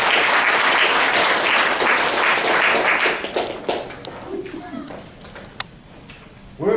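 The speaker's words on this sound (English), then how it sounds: "let's give them a round of applause." A room of attendees at a Toastmasters district judges' training panel claps in a loud, dense round of applause that tapers off midway into scattered claps, with faint talk underneath.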